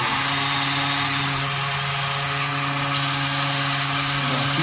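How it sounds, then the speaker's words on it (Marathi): A cheap toy drone's propellers spin with a steady high-pitched whine and buzzing hum, continuous and close, its pitch wavering slightly as the motors run. "पंखे चालू करून या साईडला आपण चालू केले"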